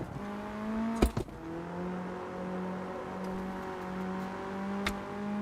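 A car engine in a racing video game holds a steady, droning tone with a few sharp clicks and bumps early on, sustained at moderate loudness without talk.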